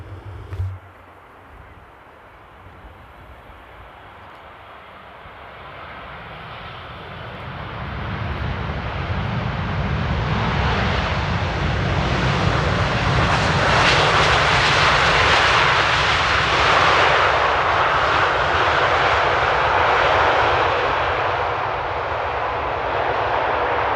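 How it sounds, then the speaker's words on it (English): A Boeing 787-9 airliner touches down at Amsterdam Airport in a crosswind, its engine roar building from quiet to a loud, sustained rush that lingers to the end; a brief knock sounds at the start. "That was a beautiful landing there."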